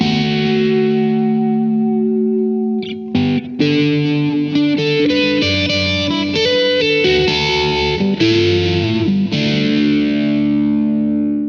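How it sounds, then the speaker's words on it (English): A Reverend Jetstream electric guitar played through a Blackstar Amped 2 in USA mode with phaser, overdrive, delay and reverb rings out in loud sustained distorted chords and swirling notes, continuous throughout. "I grabbed my Reverend Jetstream and I used the USA mode. I also added in some phaser, some overdrive, and a little bit of delay and reverb."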